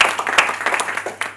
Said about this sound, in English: May I ask all of you to have a big round of applause for yourself